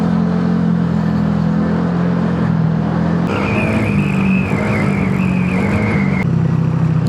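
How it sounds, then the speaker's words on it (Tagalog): A race bike's engine drones steadily and close, revving higher midway with a sustained whine, loud and continuous on a holiday group motorcycle ride through the countryside, with no talk over it. "Yung race bike eh."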